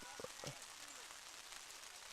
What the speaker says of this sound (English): And the rain coming down good.